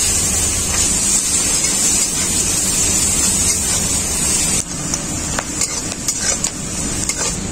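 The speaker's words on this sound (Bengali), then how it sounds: "মাছ ভাজা তেলের মধ্যেই আমি দিয়ে দেব পেঁয়াজ," Onions frying in oil left over from frying fish, a steady loud sizzle with stirring and utensil clinks that eases partway through; no talking.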